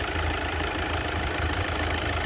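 A 2010 Tata Indica Vista Quadrajet diesel engine idles in a steady, even drone with a faint knocking pulse underneath, heard close and alone.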